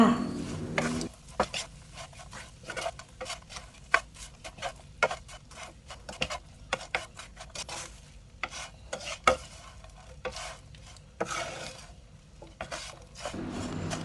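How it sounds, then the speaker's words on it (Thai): Fried garlic being stirred and tossed into chicken in a pan for old-style Thai garlic chicken, with a quiet run of scraping, clinking utensil strokes and light sizzle throughout. "ใส่ลงไปค่ะ จากนั้นก็ คลุกเคล้าค่ะคลุกเคล้าให้ส่วนผสมทุกอย่างเข้ากันค่ะ"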